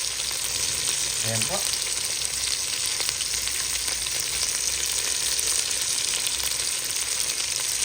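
Garlic, ginger, onion and chicken sizzle steadily in a hot pan while being sautéed, a loud continuous frying hiss with a brief spoken voice over it.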